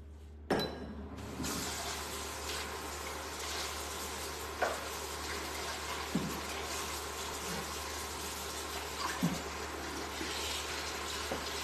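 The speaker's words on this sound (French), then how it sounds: "je lave juste ma casserole" A saucepan is rinsed under a running tap in a kitchen, a quiet steady wash of water broken by a few soft clinks and knocks of the pan.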